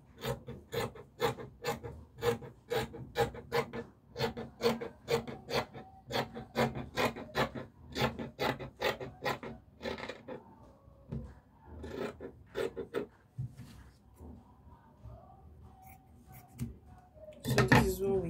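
Fabric for a circle gown being cut with scissors, a rapid run of crisp, rhythmic snips close by for about ten seconds, then slower, sparser cuts and handling noises, with a voice speaking over parts of it.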